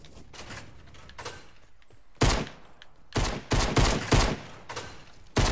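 Fortnite gameplay with bursts of loud gunfire, several sharp shots and rapid volleys clustered in the second half, over a quieter game background.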